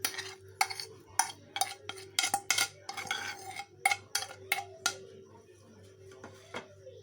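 A spoon stirring chicken burger patty mixture with milk-soaked bread in a metal bowl, a close run of irregular clinks and scrapes that thin out toward the end, with no talk.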